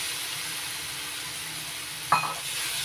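Soybean mince being stirred and fried with spices in a pan, a steady broadband sizzle with soft scraping throughout and one brief louder clink of the spatula near the end; no voices.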